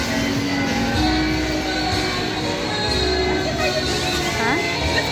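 Train noise fills the space, a loud steady rumble with metallic tones and clatter, and people talk over it.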